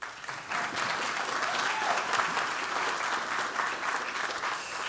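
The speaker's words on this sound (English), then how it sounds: "Y'all can clap." Audience applause at an archival opening celebration in Atlanta, steady and full-bodied, sustained for about five seconds from a sizable crowd without pause.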